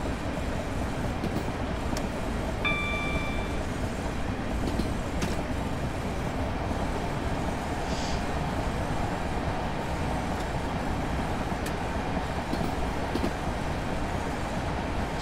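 Class 465 electric multiple unit running on the Chatham Main Line toward London Victoria in Train Simulator, a steady loud rolling rumble with wheel noise throughout and a brief tonal beep early on.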